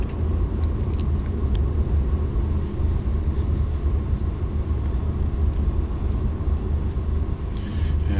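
A Baron 58 twin-engine aircraft taxiing down a runway in X-Plane 11, a steady low engine rumble and drone held at even loudness throughout, with no voices.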